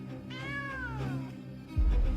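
A cat gives one drawn-out meow with a rising and falling pitch, heard clearly at moderate volume. A low thump follows at the end.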